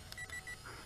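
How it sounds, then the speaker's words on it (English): Three short, evenly spaced high electronic beeps from a Tenergy Phoenix app-controlled WiFi FPV RC drone quadcopter, heard close and alone against a faint hum. "three beeps"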